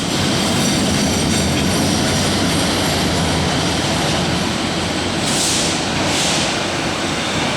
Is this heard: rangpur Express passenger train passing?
yes